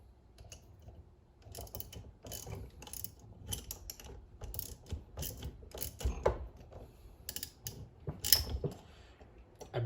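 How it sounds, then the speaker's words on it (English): A ratchet clicks in bursts as it tightens tie rod nuts on power steering linkage, a close, uneven run of metallic pawl clicks and creaks in a quiet garage. "we'll tighten them up real quick here"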